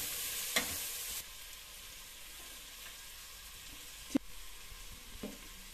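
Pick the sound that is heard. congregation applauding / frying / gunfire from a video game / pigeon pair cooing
frying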